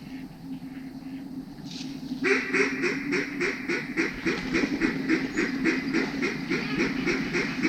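Duck call and live ducks quacking on a timber duck hunt: a softer call first, then a rapid, loud run of repeated quacks that carries on steadily to the end.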